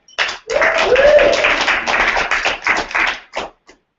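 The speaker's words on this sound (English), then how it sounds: "big round of applause for Katie Dykstra" A round of clapping from a live audience at a business training event, greeting a woman presenter as she steps up; dense, steady hand claps fill a few seconds, then thin out and stop.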